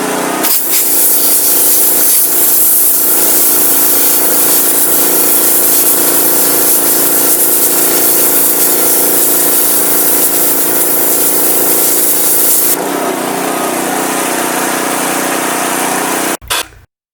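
A pressure washer fitted with a 0 degree nozzle blasts a piece of wood, a loud, steady hissing roar over the engine that shifts in tone partway through and then cuts off abruptly.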